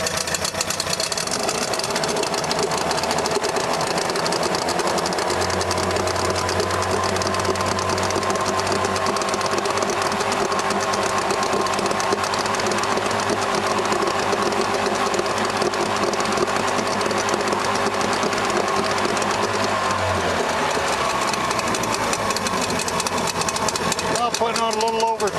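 MirroCraft boat outboard engine running and revving up, a steady close buzzing drone with a mechanical rattle, loud throughout, with a lower tone that rises midway and drops near the end.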